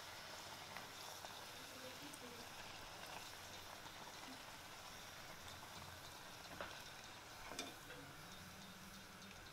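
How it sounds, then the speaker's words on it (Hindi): Palak puris deep-fry in hot oil with a soft, continuous sizzle and crackle, faint and steady, with occasional small pops. "पूड़ी को गोल्डन ब्राउन होने तक तल लेंगे।"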